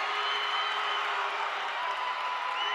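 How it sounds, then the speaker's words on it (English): Manti's home crowd at a 2018 3A boys high school basketball state tournament game against South Sevier, roaring steadily and loudly in a sustained wall of cheering that lasts the whole stretch. "South Sevier crowd has gone silent. Manti, you can hear them loud here."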